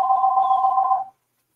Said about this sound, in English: That's my house phone. I still have a landline.